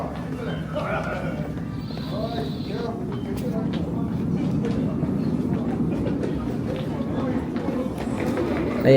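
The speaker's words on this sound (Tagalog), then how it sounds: "Ayan, sakay na tayo ng train guys." A Seoul metro subway train arrives at the platform and runs along the rails, a steady rumbling roar that builds slightly toward the end, with voices and station bustle mixed in throughout.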